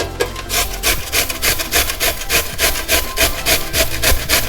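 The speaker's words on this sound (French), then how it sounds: "La deuxième betterave, vous allez la prendre et on va directement venir la râper avec des gros trous comme ça." Beetroot rubbed quickly against the coarse holes of a grater, a close, rhythmic scraping with rapid repeated strokes and no talking.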